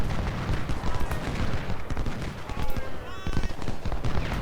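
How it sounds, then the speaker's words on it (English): Napoleon cannons fire in the Ultimate General: Civil War video game during the Parker's Crossroads battle, a dense, continuous barrage of booms and crackling shots layered over battlefield din, with no pause across the stretch. "our Napoleon guns are opening up"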